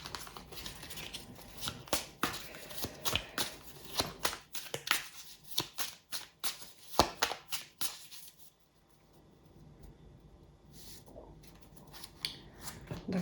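Tarot cards are shuffled by hand in a quiet room, with rapid crisp snapping flicks for several seconds, then the sound falls nearly silent with a few soft card taps.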